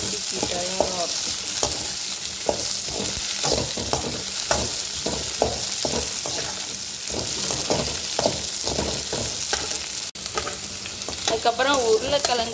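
Okra sautés and sizzles in a pan for a Tamil sambar, a steady close frying hiss broken by repeated stirring scrapes, with no talk.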